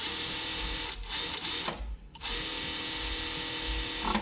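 An EX overlock sewing machine runs steadily while stitching, a close, continuous mechanical whir with rapid needle clatter that pauses briefly mid-run before resuming.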